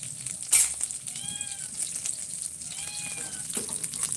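A cat meows twice, a pair of short, fairly clear calls over background noise from a kitchen where mung beans are being cooked, with a faint clatter and hiss in between.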